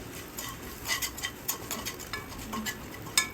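A spoon stirs cooked rice together with ground pepper, cumin and salt in a metal pan for a Navratri prasad dish, giving soft scraping sounds and irregular light metallic clinks close by, with no talking.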